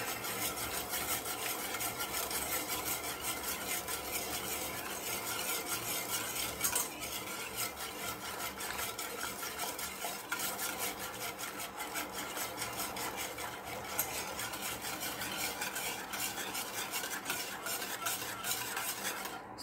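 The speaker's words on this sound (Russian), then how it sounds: "тоненькой струйкой добавляем и сразу мешаем, чтобы наша масса здесь нагрелась" Continuous stirring of beaten egg mixture being warmed for Georgian chikhirtma chicken soup, with a steady scraping, swishing utensil rhythm against the pot that runs unbroken and fairly close throughout.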